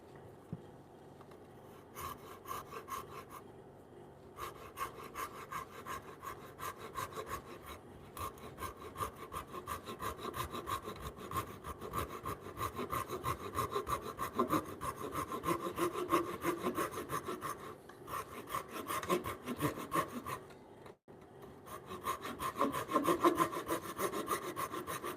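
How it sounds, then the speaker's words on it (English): A hand saw cross-cuts timber in a woodworking shop, steady rasping back-and-forth strokes that grow louder and rougher, with a few short pauses and no talk. "That is not great sawing"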